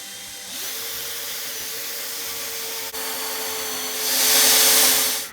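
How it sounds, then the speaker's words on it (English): A power drill bores a deadbolt hole through a door for an electronic keypad lock, a steady whine that rises in pitch and loudness near the end, with no talking. "Now I'll go ahead and drill out where the deadbolt's gonna go in the second door."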